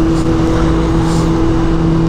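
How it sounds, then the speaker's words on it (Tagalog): Road traffic heard from a moving motorcycle, a loud steady engine drone and wind rumble with a constant low hum, filling the whole stretch without breaks or talk. "Traffic na!"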